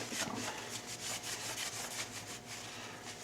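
Microfiber cloth rubbed over the outside of a 1911 pistol, a quiet, continuous rhythmic scrubbing with repeated back-and-forth strokes and no voices.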